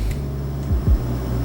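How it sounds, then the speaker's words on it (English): Cooling fans in a Mac Pro computer running with a steady low hum and a whirring drone, close and continuous, with a couple of faint brief bumps partway through. "that's the one thing about Mac Pros, they have a lot of fans in them so they're a bit noisy"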